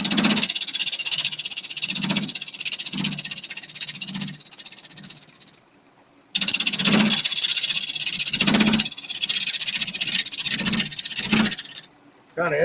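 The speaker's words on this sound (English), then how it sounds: "I'm cutting a ton of air on this because it's oblong in shape" Woodturning tool cutting an oblong blank on a lathe, hitting air on each turn: close, loud rasping scrape repeating in a fast rhythmic pulse with low thumps, broken by two brief pauses.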